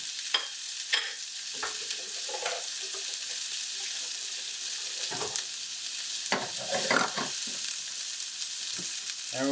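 Chopped onions hit a pan of warmed oil, a steady bright sizzle running throughout with scattered stirring scrapes and clicks rising above it, close and fairly loud with no talking.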